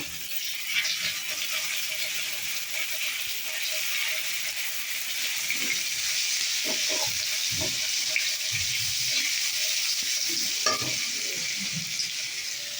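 Continuous bright sizzle of a spoonful of garlic paste frying in hot oil for a duck egg and cauliflower curry, with a spatula stirring and scraping in soft irregular knocks throughout.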